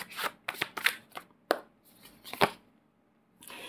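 Tarot cards being shuffled and drawn, irregular crisp riffles and slaps in short bursts separated by quiet gaps, close and clear.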